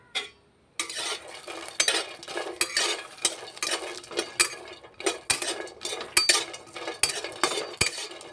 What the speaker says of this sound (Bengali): কিছু কাঠবাদাম নিয়েছি, কিছু কাজু বাদাম নিয়েছি, আর 4টে এলাচকে আমি শুকনো খোলায় ভালো করে ভেজে নেব